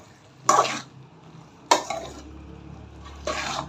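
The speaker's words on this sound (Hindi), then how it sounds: "बस 30 सेकंड के लिए हम इस तरीके से चम्मच लगा के भूनेंगे" A spoon scrapes and stirs chopped ridge gourd in a pan over soft frying, three sharp scraping strokes spaced about a second apart against a low background hum.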